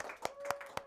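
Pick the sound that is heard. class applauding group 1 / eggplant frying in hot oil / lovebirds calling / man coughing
class applauding group 1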